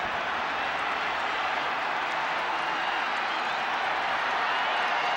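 A steady wash of cheering from Dallas Cowboys fans in a packed stadium crowd at Super Bowl XXVII against the Bills, continuous and roaring without pause.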